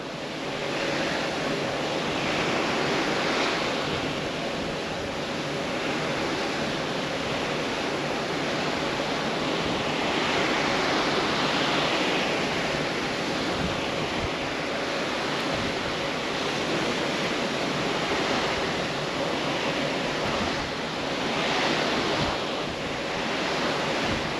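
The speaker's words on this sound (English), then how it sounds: "The only noise you have is the water." Ocean water and waves wash below the deck of the Carnival Glory cruise ship, a continuous broad rushing surf mixed with wind that swells and eases gently, with no voices.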